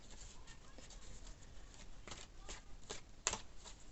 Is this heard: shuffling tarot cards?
yes